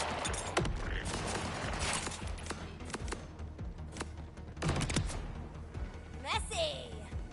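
Borderlands combat sounds, with scattered sharp gunshot cracks and a whistling ricochet-like sweep near the end over a busy layer of game noise and music.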